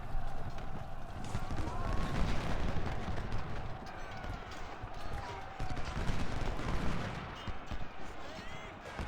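Union infantry fire a musket volley in a Fredericksburg battle game, a sustained crackle of gunfire mixed with galloping hoofbeats and distant booms, with someone talking over it.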